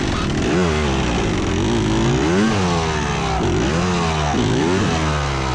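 A motocross motorcycle stuck in the ground revs hard and close, its engine note rising and falling again and again in loud surging bursts.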